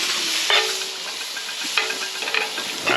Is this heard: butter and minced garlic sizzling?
yes